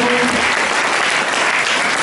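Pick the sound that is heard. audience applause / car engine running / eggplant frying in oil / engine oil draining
audience applause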